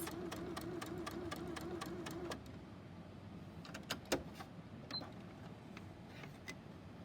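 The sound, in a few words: sewing machine stitching mittens slowly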